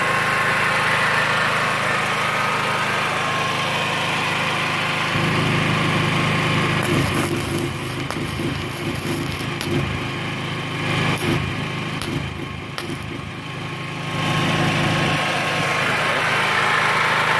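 A portable generator runs steadily nearby with a constant droning hum while it powers a MIG 160 welder. Its tone shifts and roughens partway through as the welding load comes on, then eases back to a smooth run.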